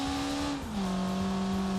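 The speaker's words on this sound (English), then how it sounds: "I did not expect such a mighty sound from such a little tiny squeaky car." Tiny Tango car in a BeamNG driving game, its engine revving hard at high speed with a steady loud buzzing drone that drops briefly in pitch at a gear change, then holds again.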